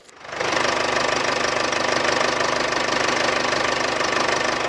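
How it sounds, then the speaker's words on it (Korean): Engine of a Mercedes-Benz GLC 4MATIC runs steadily with the hood open, a loud, continuous close-up hum with a faint rapid ticking texture, starting just after the opening and holding even throughout. "나가서 엔진 소리 들어보도록 하겠습니다"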